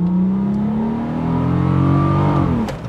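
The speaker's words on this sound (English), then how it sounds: "but it has a V6 that sounds like this." A Nissan Maxima's V6 engine revs up in a smooth, loud, rising drone that climbs steadily for a couple of seconds and then drops off as the throttle closes, heard close with no voices.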